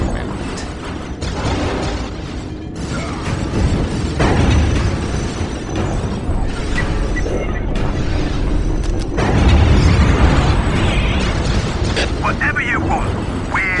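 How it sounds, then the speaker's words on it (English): Cannons fire and explode in the strategy video game Warhammer 40,000: Dawn of War – Winter Assault, a dense, continuous roar of booms and battle noise with unit voices mixed in throughout. "All cannons are ready!"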